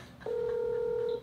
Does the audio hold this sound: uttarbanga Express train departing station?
no